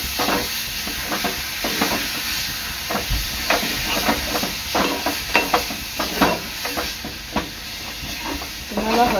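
Ground ridge gourd chutney sautéed in a pan, a steady hiss and sizzle with repeated scraping strokes of a spoon stirring through it, close and continuous.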